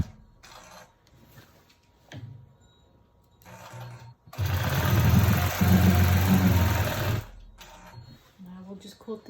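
A quilting machine stitches a 16-patch scrap quilt in a loud, steady mechanical hum and rattle for several seconds, with a voice talking briefly before and after the run.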